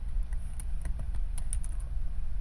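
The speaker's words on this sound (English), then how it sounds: "and then we're gonna be typing" Quick, uneven clicks of fingers typing on a computer keyboard while Python code is entered, close and clear against faint background noise.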